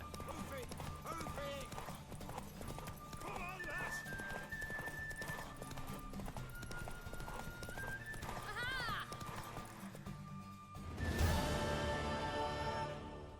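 A horse in The Witcher 3 gallops with steady, driving clip-clop hoofbeats under game music, a whinny rising partway through, then a louder rush of sound toward the end.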